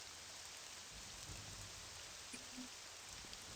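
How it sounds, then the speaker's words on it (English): Rain falls steadily in the Morrowind video game, a faint, even hiss with a few soft tonal blips over it. "Man, I love the rain."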